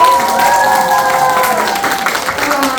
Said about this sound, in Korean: 저에게도 뜨거운 박수 부탁드릴게요